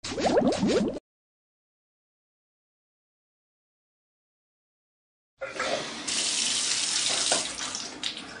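Water runs from a shower in a Baby Bus children's game, a brief splash at the start and then, after a long silence, a steady hissing stream, fairly soft and with no talking.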